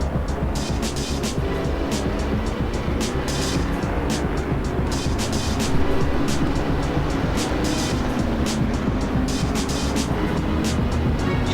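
GT3 race cars, including a Nissan, roar continuously around Donington in the Assetto Corsa racing game, with dense layered engine drone and frequent sharp shifts or bursts over the whole stretch and no talking.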